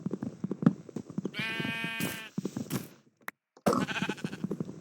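A sheep bleats in a long wavering cry amid Minecraft Sky Block game sounds and soft clicks, followed by a short silence and another burst of noise.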